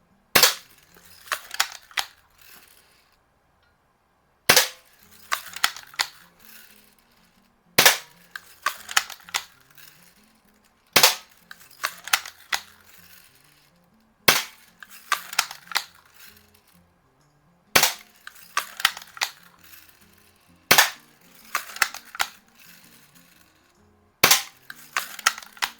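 A BB gun fires at a fresh can, sounding as eight sharp, close cracks spaced about three seconds apart, each followed by a short rattling, clinking tail.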